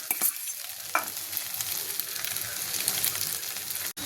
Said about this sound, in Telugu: ఇప్పుడు మనం ఉడకబెట్టుకున్న మ్యాగీ వేసేద్దాం. దీన్ని మంచిగా ఇందులో మిక్స్ చేద్దాం.